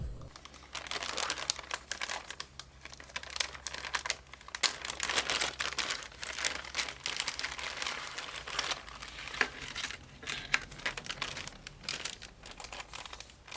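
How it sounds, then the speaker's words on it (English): Plastic packaging crinkles and crackles as a package is opened, crisp, close and busy, with irregular bursts of rustling and a faint low hum beneath, no talking. "I love the sound of plastic crinkling"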